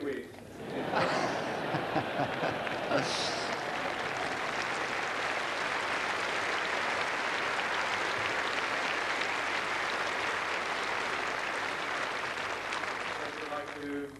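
A tennis crowd gives Stefan Edberg sustained, dense applause at a 1996 match against Becker, with chuckles and laughter scattered through the steady clapping for the whole stretch.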